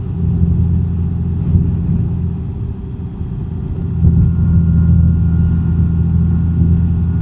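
A Honda Gold Wing motorcycle rides off a highway exit, its engine a steady low rumble with wind noise throughout, loud and close, with no talking.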